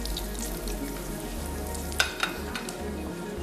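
A chicken cheese sandwich fries in a pan with a steady, close sizzle. A couple of brief utensil clicks sound partway through, and no one talks.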